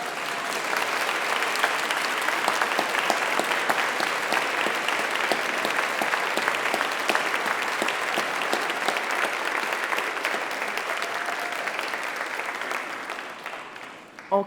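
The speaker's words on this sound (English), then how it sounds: "Graduates, give your families a big round of applause," A graduation audience applauds in a large hall, dense sustained clapping from many hands that holds steady for the whole stretch, then tails off at the end.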